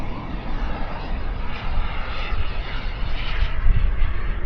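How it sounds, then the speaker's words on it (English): A propeller airplane flies by in a steady, continuous engine drone that stays loud and close throughout, swelling slightly near the end as it passes. "Let's see if he's going to do a flyby again."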